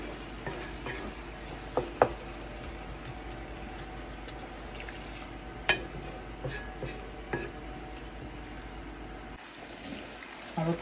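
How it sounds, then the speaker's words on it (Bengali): Ridge gourd curry frying in a pan as water is added to boil it: a steady low sizzle with scattered scraping and stirring clicks, then a brief wash of pouring water near the end. "এখন একটু পানি দিয়ে দিব, পানি দিয়ে সিদ্ধ করে দিব"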